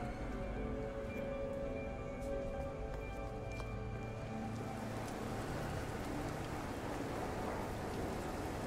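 Hot rain falls in No Man's Sky as a steady hiss of rain on surfaces, thickening to a dense downpour partway through, with a faint low rumble beneath and no voices.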